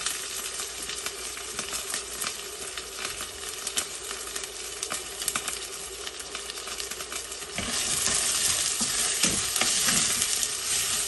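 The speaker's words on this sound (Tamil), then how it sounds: "சின்ன வெங்காயம் நசுக்கி ஆட் பண்ணிக்கிறேன்" Crushed shallots frying in oil for mutton kuzhambu, a continuous close sizzle that swells louder partway through as they are stirred, with occasional utensil scrapes.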